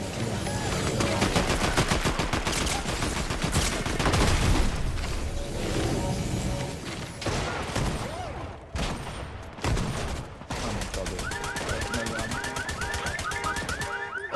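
Shotgun fire in a first-person shooter video game, dense rapid blasts and game effects layered throughout, loud and close, with a brief lull midway.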